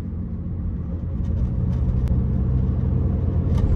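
A Mini Cooper cruises smoothly on the road, a low, steady engine and road rumble that swells slightly in loudness, with a faint tick near the middle and no talk.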